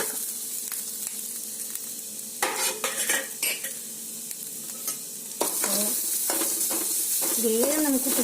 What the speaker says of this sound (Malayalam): ഇതാ നെയ്യ് ഒഴിച്ചിട്ടുണ്ട് അപ്പോൾ ഇതിലോട്ട് നമുക്ക് തേങ്ങയും ഏലക്കായും കൂടി നന്നായി മുരിച്ചു